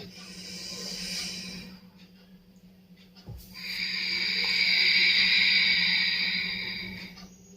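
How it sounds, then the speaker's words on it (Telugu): During a pranayama breathing exercise, one slow, deliberate inhalation draws air through the nose with a close, airy hiss lasting several seconds, preceded by a softer breath. "తర్వాత శ్వాస తీసుకోవాలి."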